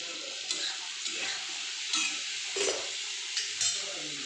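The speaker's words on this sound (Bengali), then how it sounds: "লঙ্কাটা দিয়ে একটু লাড়াচাড়া করবে।" Chili and turmeric frying in a pan with prawns on the way, a soft steady sizzle broken by several sharp scraping stirs of the spoon against the pan.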